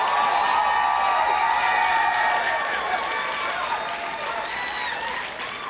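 A crowd at an awards event applauds and cheers in a dense wash of clapping, strong at first and tapering off, with voices mixed into the noise.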